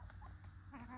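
Chickens cluck softly on a farm, a brief, faint burst of low hen chatter.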